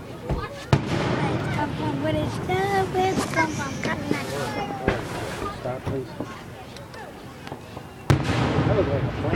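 Fourth of July fireworks booming and crackling outdoors with scattered pops, while people chat nearby over a steady wind-like rumble.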